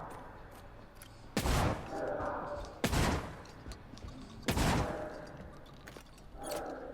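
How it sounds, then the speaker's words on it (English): Heavy gunfire from a modified nailer and a shotgun in the horror game Tormented Souls 2, three sharp booming blasts spaced about 1.5 seconds apart over low game ambience. "I was trying to shoot them with the modified nailer first, and then go to a shotgun."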